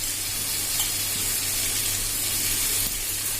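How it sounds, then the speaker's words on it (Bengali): Fried pointed gourd, potatoes and snails are stirred into a spice paste in a pan, giving a steady, close hissing sizzle throughout with no talk. "এবার সমস্ত ভেজে রাখা পটল, আলু আর শামুকগুলো ওই মশলার মধ্যে দিয়ে দেব, দিয়ে ভালো করে কষাতে থাকবো।"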